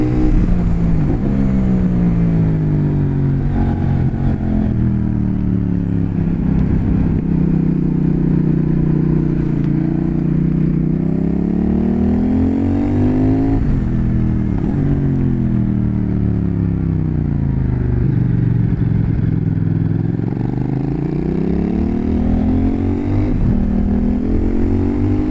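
A CF Moto 800NK motorcycle rides along, its engine droning loudly and steadily as revs repeatedly swell and then sink through long decelerations, heard close up without any voices.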